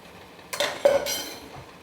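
A spoon stirs soybean recipe ingredients with gram flour and oil in a pot, giving a couple of brief scraping clinks against the metal in a quiet kitchen, with no talking.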